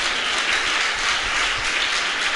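Congregation clapping hands during a Tamil Pentecostal church service in Chengalpattu, a dense, steady wash of many hands applauding together throughout, fairly loud with no gaps.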